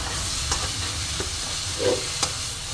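Spice masala being sautéed in a kadai for a tangy-spicy katla curry: a steady, soft sizzle with faint stirring scrapes and light clinks at intervals, with no one talking.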